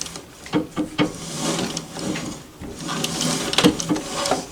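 White treadle sewing machine running, with irregular clattering mechanical knocks and thumps as the treadle starts up, followed by a denser whirring rattle, moderately loud and close, with no talk.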